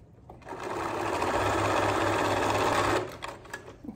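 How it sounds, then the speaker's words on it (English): A close-miked sewing machine runs in one steady burst of about two and a half seconds, stitching through an old damaged towel, loud and continuous with a buzzing whir before it stops. "I know my sewing machine sounds weird because it's so close to the microphone"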